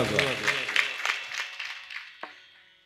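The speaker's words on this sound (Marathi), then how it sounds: "टाळी वाजवा." At a devotional kirtan gathering, a voice talks over rhythmic audience clapping, a series of evenly spaced claps that fades away, ending with one final clap.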